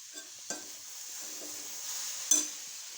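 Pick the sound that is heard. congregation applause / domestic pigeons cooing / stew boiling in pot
stew boiling in pot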